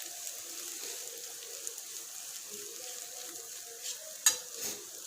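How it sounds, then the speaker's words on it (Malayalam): Crushed leftover parotta and chicken stirred in a frying pan for kothu parotta give a low, steady sizzle with soft scraping, then one sharp clink of the spatula near the end. "ക്രഷ് ചെയ്ത് വെച്ചിരിക്കുന്ന പൊറോട്ട ചിക്കൻ ആഡ് ചെയ്ത് കൊടുക്കാം. ഇതൊന്ന് യോജിപ്പിച്ചെടുക്കാം."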